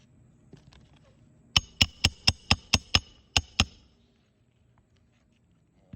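A 12-ounce hammer strikes roof shingles in a quick series of about eight sharp taps, close and distinct, with quiet before and after.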